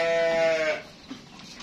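On a livestock breeding farm, a single local sheep lets out one close, loud, wavering bleat, followed by quieter farmyard sounds.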